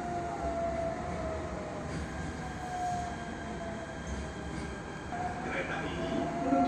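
Jakarta MRT metro train running between stations toward Lebak Bulus, a steady loud rumble of wheels and motor with a faint high whine and brief squeals near the end, heard from inside the car.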